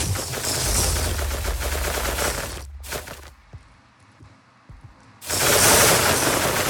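Rapid bursts of gunfire effects from the Minecraft video game, loud and continuous, cutting out for about two seconds before a fresh dense volley resumes at full strength.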